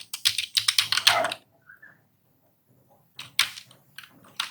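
Keyboard typing while entering CSS background-attachment code on a computer: two quick bursts of close, crisp key clicks separated by a pause with a few faint taps.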